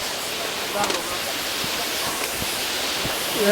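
Kiliyur Falls waterfall in Yercaud, a steady broadband rush of falling water heard throughout, with brief voices and background chatter.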